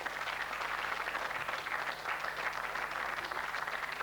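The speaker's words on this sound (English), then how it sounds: "Give them a round of applause." A studio audience on a 2001 football quiz show applauds the teams, a faint, steady wash of clapping with no distinct individual claps.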